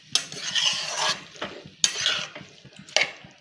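A spoon stirs carrot halwa simmering in milk in a pan, with several scraping strokes and sharp clinks against the metal in an irregular rhythm, close and moderately loud.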